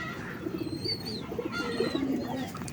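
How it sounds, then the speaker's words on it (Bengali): Pigeons coo repeatedly inside a loft, several overlapping low throaty calls close by with a few higher chirps, steady and fairly loud with no talk. "দেখতেই পাচ্ছ সব পায়রা ডাকাডাকি করছে"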